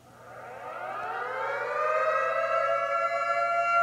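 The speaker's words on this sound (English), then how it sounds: "I'm guessing that's an alert sound effect?" An alert siren sound effect winds up from silence, its civil-defense-style wail rising steadily in pitch and loudness over a few seconds before holding at a steady tone.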